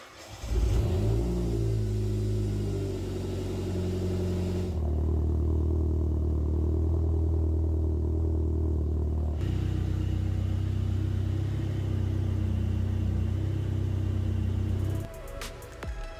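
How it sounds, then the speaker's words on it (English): A Saab OG 9-3 engine cranks, catches and settles into a steady close idle right after an oil change, holding an even rumble for most of the stretch before cutting off near the end. "I'm gonna start my car for a few minutes and let the oil cycle"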